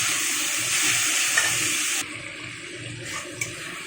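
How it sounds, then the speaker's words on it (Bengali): Bhetki fish fat fries in a pan, giving a steady close sizzle that drops sharply halfway through to a quieter crackle with occasional pops. "চলুন এইভাবে এবারে মাছের তেলটাকে একটু সুন্দর করে আগে ভেজে নিই"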